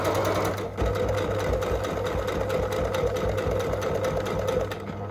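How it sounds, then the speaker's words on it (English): A sewing machine stitches a straight seam at a quarter-inch allowance along jacket bias binding, its steady motor hum and rapid needle rhythm running close and continuous, with a brief dip near the start. "I'm just going to sew this with 1/4 inch seam allowance"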